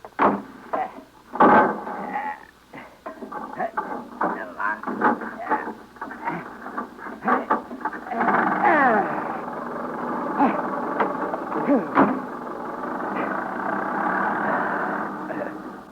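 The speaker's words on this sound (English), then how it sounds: "I'll crank the engine." An old motor car engine in a 1953 radio drama, cranked and then running with a steady mid-pitched idle under speaking voices, the chugging growing more continuous in the second half.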